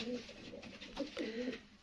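Homing and king pigeons cooing close by, several soft throaty coos in quick succession at a low, quiet level.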